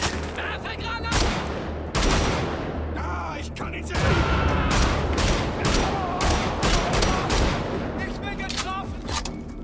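Dense, loud gunfire from the shotgun in Wolfenstein: The Old Blood, repeated blasts booming every second or so amid a chaotic wash of in-game combat noise and other weapons, with no talk over it.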